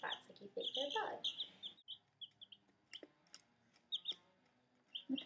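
Indoor roosters in a house foyer give soft clucks and short high chirps, scattered close and intermittent with quiet gaps.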